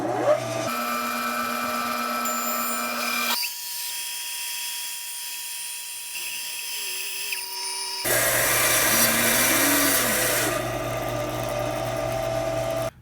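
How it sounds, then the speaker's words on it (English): Bandsaw slicing through a 2.5-inch-thick walnut block: a loud steady whine and buzz from the running saw, the tone shifting as the blade bites and then eases off, with a quieter stretch midway before the cutting noise returns strongly, no talking. "I've gone and cut that one off already on the bandsaw. So I'm going to cut the second one."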